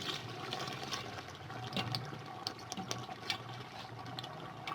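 Water pours steadily into an open pan of masala fish curry, a soft continuous trickling and gushing that stays fairly quiet throughout, with no one talking.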